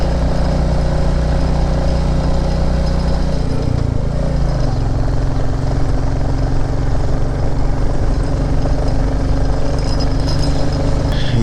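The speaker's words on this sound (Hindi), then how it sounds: "बाइक थर्ड गियर से ऊपर जा ही नहीं रही है" A motorcycle engine labours steadily up a looping mountain road, held in third gear at constant loud revs, close and continuous with no pauses and no talk.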